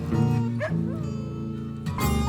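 Dog barks and yelps woven into a song, heard as a few bark-like calls over a steady bed of music with sustained tones, fairly loud throughout.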